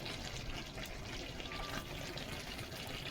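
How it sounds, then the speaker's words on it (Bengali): Rose water poured from a cup into milk for a veg biryani, a steady soft liquid trickle and splash running throughout, close and quiet, with no talk. "দুধের মধ্যে আমি এই এই সিপিটার এক সিপি গোলাপ জল দিয়ে দিচ্ছি"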